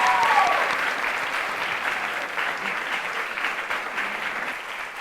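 An audience at a school cooking competition final applauds the contestants, giving dense, sustained clapping that stays loud for the whole stretch and tapers only slightly near the end.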